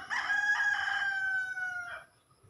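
A farm rooster gives one loud, close crow lasting about two seconds and tapering off at the end, with no talk over it.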